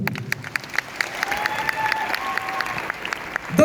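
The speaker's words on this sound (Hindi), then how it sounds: "मैं चाहूंगा ये महान गुरु के लिए ताली होना चाहिए" Steady applause from a large stadium crowd at a Safe Shop event, clapping honoring a guru, fairly distant and sustained with some faint cheering tones rising over it.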